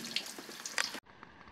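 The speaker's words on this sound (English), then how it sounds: "I'm going to turn the front pump on so I can take all the water out of there" Water gushes steadily from a front sump pump as it pumps water out of a sump pit, a bright splashing rush that cuts off abruptly, leaving a quieter trickle and hiss.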